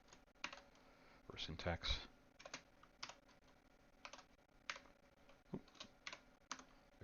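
Rapid clacking keystrokes on a computer keyboard while C code is entered, in quick irregular bursts with short pauses, close and clear, interleaved with someone talking.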